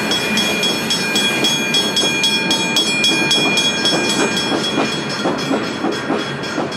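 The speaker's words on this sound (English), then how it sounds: "Each day, Hammersley iron ore trains run from the company mines to the harbour at" A long Hammersley iron ore freight train runs from the mines toward the harbour at Dampier, steady loud rumbling with repeated clickety-clack wheel beats and a ringing metallic squeal, alone without talk.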